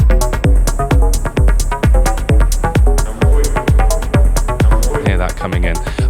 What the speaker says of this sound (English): I'm just playing around with my left hand with the FM percussion synth